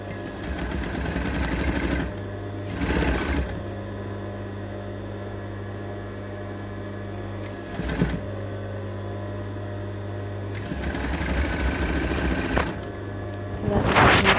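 A sewing machine sews tape onto a neckline, its needle rattling in bursts of a few seconds separated by pauses filled with a steady low motor hum, all close and moderately loud.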